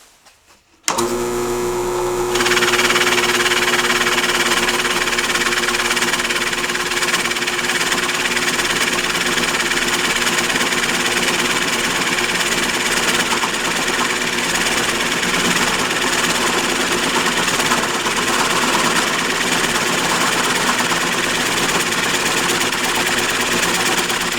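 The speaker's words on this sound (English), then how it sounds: "you're running this drill press at a slow speed. I've got mine set at 540 RPM right now" A drill press set to 540 RPM bores into wood with a rosette cutter. After a brief quiet start, the motor starts abruptly and holds a loud, steady mechanical whine and grinding hum for over twenty seconds, with no talking.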